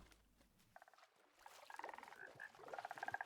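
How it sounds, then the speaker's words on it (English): Cold biome frogs in Minecraft croak repeatedly in quick, pulsing bursts, several calls overlapping at moderate volume, growing busier toward the end. "And now we have 9 cold biome frogs."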